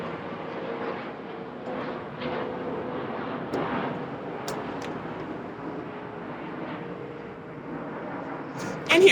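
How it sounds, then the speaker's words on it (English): An airplane passes overhead outdoors near a cornfield, a steady distant broadband roar that holds fairly evenly throughout under faint background sounds. "so the airplane go by."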